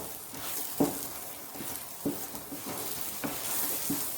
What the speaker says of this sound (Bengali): এইভাবে অনবরত নাড়াচাড়া করে পুরটাকে তৈরি করে নিতে হবে।